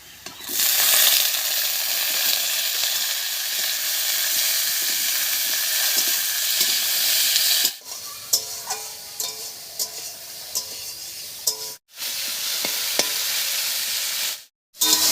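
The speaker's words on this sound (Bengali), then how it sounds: "ফোড়নের উপরে টমেটোটা দিয়ে বেশ কিছুক্ষণ নাড়াচাড়া করে নিয়েছি।" Chopped tomatoes sizzle loudly over a tempering of fried onions in a pan, a dense continuous hiss with stirring scrapes, cut by brief silences where the sound drops out.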